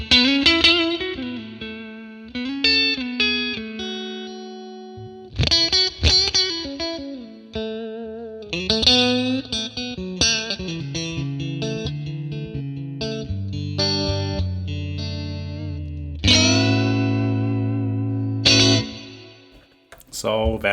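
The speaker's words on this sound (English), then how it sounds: "Let's try to engage the reverb a little bit to have some more space" Clean electric guitar through a 1957 Tweed Bassman amp model with a warm, slightly gritty tone and spacious reverb, playing chords and melodic phrases with ringing sustain.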